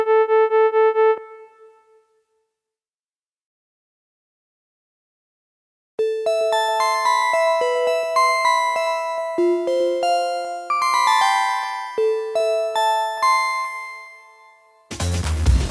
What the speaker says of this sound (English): Bell sounds are very easy to make.